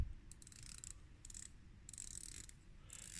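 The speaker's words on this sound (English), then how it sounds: "120 click unidirectional bezel" Unidirectional 120-click bezel on an RLG Odyssea watch being turned, quiet bursts of fine rapid ratcheting clicks in short runs separated by pauses, faint and close.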